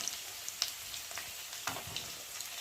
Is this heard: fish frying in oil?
yes